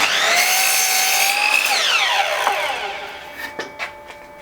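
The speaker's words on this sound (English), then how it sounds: "So we'll run them through the saw and see what sort of cuts they give." A Scheppach mitre saw cuts through cheap timber: the motor whines loudly, its pitch shifts as the blade bites the wood, then it spins down with a few clicks and knocks as it stops, close and without talk.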